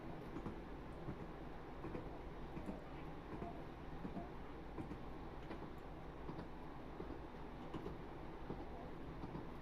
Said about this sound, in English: Of course, that's a train, isn't it?